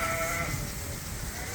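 Sheep bleat inside a barn holding about ninety ewes, with a couple of clear, drawn-out calls at the start over a steady murmur of the flock and barn noise.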